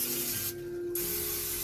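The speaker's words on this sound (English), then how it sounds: "So let's spray this down again" Liquid sprayed from a spray bottle in a steady hissing burst that cuts off briefly and then resumes, close and fairly loud, with no talking over it.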